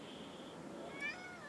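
A cat in a dacha garden gives a faint, brief meow against a hushed outdoor background.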